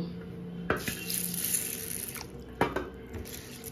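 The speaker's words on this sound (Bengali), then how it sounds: "আমি ডালটা ভালো করে ধুয়ে নেব।" Matar dal (split peas) is washed under a running kitchen tap, a soft, steady stream of water with a couple of sharper splashes as the peas are stirred.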